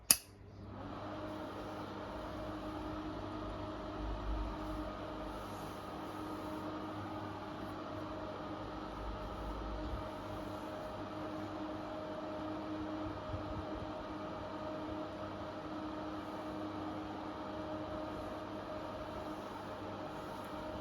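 A white Intervent 4-inch axial extractor fan with its front cover fitted runs with a steady, faint hum and airy whir after a brief click at the start, continuous and unchanging.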